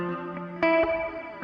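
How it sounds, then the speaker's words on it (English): A few plucked instrument notes ring out into a modulated reverb, their tails shimmering and wavering as they fade. "It's a cleaner reverb sound"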